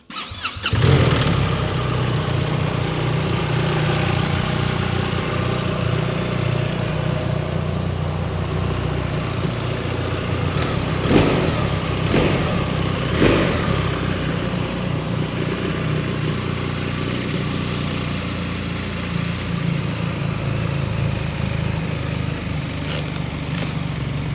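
A 2025 BMW R1300RT motorcycle engine cranks and catches, then settles into a steady, slightly uneven idle that runs on loudly for a long stretch, with occasional blips.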